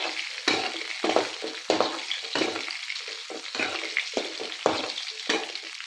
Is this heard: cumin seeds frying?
yes